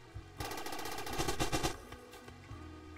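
Sustained automatic gunfire from a RimWorld battle, a rapid rattling burst that swells after a short wind-up and then trails off, loud and close with no talk.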